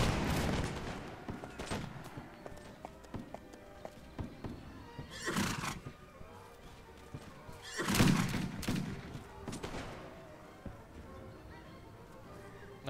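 Musket volleys in Mount & Blade Warband sound as several loud, rolling crackles spaced a few seconds apart. Horses neigh and hooves clop around them on a busy battlefield.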